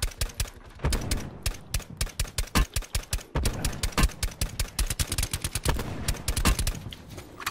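Rapid gunfire in the battle-royale shooter Call of Duty Blackout, with sharp shots in quick irregular bursts and near-continuous volleys, loud and close.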